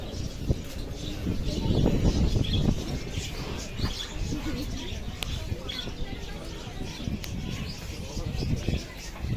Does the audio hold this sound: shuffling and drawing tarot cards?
no